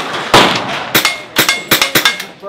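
Rapid suppressed gunshots through an Artemis-X suppressor at an outdoor shoot, five or six sharp muted cracks in quick succession, close and clear with little echo.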